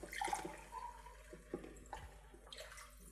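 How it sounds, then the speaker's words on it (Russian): Purified water pours and splashes into a pan of sauce being cooked, a quiet, uneven trickling with small bursts, faint and close. "Я беру воду очищенную."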